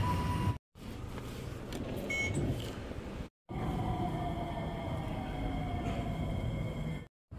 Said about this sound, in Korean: 지하철역 앞 새벽 5시 반인데 문을 여네요.